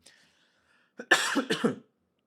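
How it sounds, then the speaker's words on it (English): One hoarse, chesty cough close to the mic, a short rough burst with a second push, after a faint breath and then silence. "I'm going to cough."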